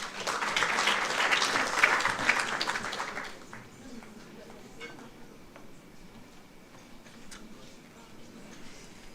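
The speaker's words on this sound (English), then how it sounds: "Let's please give him a round of applause." Applause from an audience at an International Mother Language Day celebration, greeting the National Language Services representative; loud, dense clapping for about four seconds, then fading to a thinner, quieter patter.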